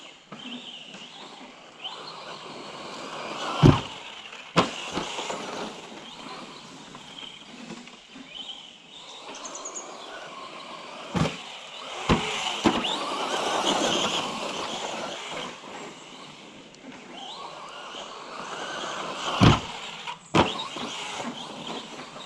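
An Arrma Fury brushless RC car with a 3650 3900 kV motor on 2S drives off at a moderate distance, its thin electric whine rising and falling, broken by several sharp knocks and clatters.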